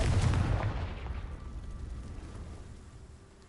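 A Confringo fire spell blast in Hogwarts Legacy on PS5 lands as a loud booming burst at the start, then a rumbling explosive tail fades steadily over a few seconds.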